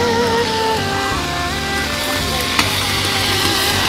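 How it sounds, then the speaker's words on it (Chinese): Pork belly stir-frying with bell peppers in a roaring wok at a Shandong outdoor market stall, a steady dense sizzle with a faint clink of the spatula partway through, no talk. "这是肉炒柿子椒"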